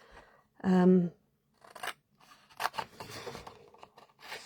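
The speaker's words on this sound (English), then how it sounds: "what I'm going to do with that is just fussy cut it a bit" Scissors fussy-cutting a thin strip of card-making paper, with short, close snips and light paper rustles broken up by pauses, and a voice speaking briefly at the start.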